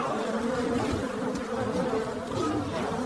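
A dense swarm of bees gives off a continuous, loud buzzing hum that holds steady without a break.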